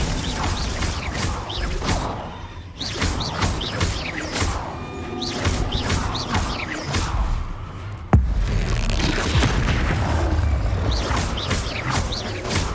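Confringo, Glacius and Expelliarmus spells cast in Hogwarts Legacy, a dense run of whooshing casts, crashes and impact cracks with a sudden sharp hit near the end, busy and continuous.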